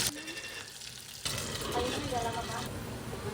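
Pork frying in hot oil in a home kitchen, a steady sizzle with soft pops and a bright clatter partway through as the pan is handled, fairly close and moderately loud.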